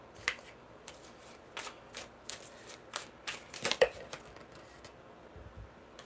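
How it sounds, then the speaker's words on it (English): Tarot cards shuffled by hand in a run of soft, papery riffles and slaps, close and fairly quiet, several bursts spaced irregularly with brief pauses between. "Let's go ahead and shuffle this up."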